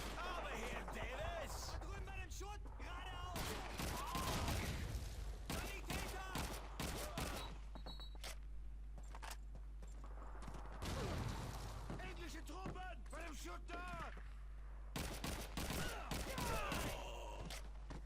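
Rapid bursts of MP44 assault rifle fire in Call of Duty 2, a World War II shooter set in Normandy, cracking repeatedly through a busy battle with other gunfire, under someone talking and groaning.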